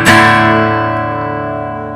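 A strummed acoustic guitar chord from a live acoustic arrangement rings out loudly once and sustains, decaying slowly with no talk over it.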